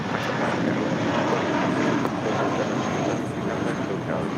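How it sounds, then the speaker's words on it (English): A JetBlue Airbus A320 departs LAX for Salt Lake City, giving a loud, continuous engine roar with little change over a few seconds. "That's Blue Infinity and Beyond taking off to Salt Lake City. JetBlue Airways 1732, A320."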